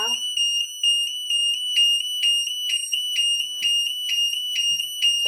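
A burglar alarm sounder in a vented bell box wails loudly and steadily at close range, its piercing electronic tone pulsing in a regular repeating rhythm throughout.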